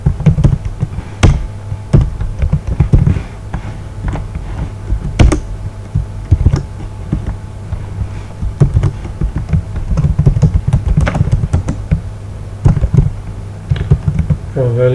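Clicks of typing on a computer keyboard while writing a beginner C# programming project, irregular close taps in short bursts, with a low steady hum beneath and no talking.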